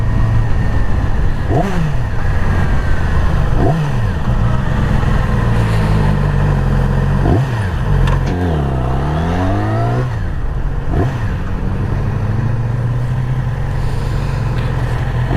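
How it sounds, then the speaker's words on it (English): A 2017 Yamaha YZF R6 sport motorcycle engine revs repeatedly, its pitch rising and falling in several sweeps over a steady, loud, close rumble and wind noise. "I ride 2017 Yamaha YZF R6 and it's a pretty dope machine."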